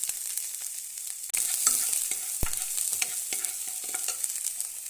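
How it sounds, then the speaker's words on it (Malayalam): Mustard seeds, curry leaves and sliced onion hit hot oil, jumping from a quiet pan to a loud, steady sizzle with scattered seed pops and light scraping of a stirring spoon, no voices. "എണ്ണ ചൂടായിട്ടുണ്ട്. സ്വല്പം കടുക് ഇട്ട് കൊടുക്കാം."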